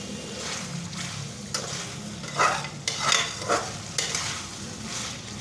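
Chicken for a Peshawari charsi karahi fries in a pan with a steady close sizzle, while a spatula stirs and scrapes in several louder swishing strokes around the middle.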